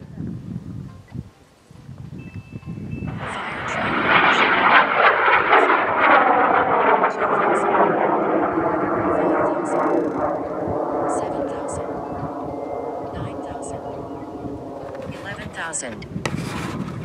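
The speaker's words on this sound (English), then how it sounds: "We're going to launch Jason's rocket in 5, 4, 3, 2, 1, ignition." An AeroTech M650 M-class rocket motor ignites and launches a high-power rocket, a sudden loud roaring rush that swells within a second, then a long sustained rumbling roar that slowly thins and fades as it climbs away.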